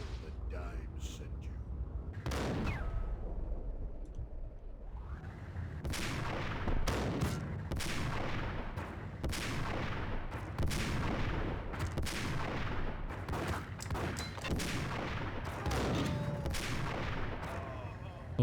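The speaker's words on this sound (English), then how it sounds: "We're gonna use the sniper rifle here." Sniper rifle fire and other gunshots in the Max Payne video game, heard as repeated sharp loud cracks and booms at irregular intervals over a dense battle din, with someone talking over it.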